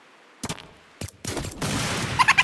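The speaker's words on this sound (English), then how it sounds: "someone's shooting at me" Gunfire in the video game Fortnite: a few isolated shots, then a sustained burst of rapid firing, loud and close, with no talk.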